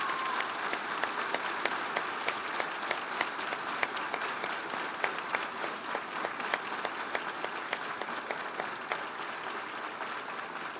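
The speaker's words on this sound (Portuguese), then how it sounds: "eu gostaria de pedir uma salva de palmas para esse grupo tão especial" A church congregation claps for a special group, dense sustained applause with a few sharper individual claps standing out over the steady wash.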